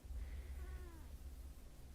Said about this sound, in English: I thought the cat was in the game.